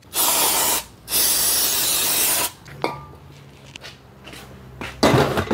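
Bursts of compressed air hissing into the brake caliper channel of an Opel Corsa, two long loud blasts followed by quieter hisses, a clatter and a final short burst.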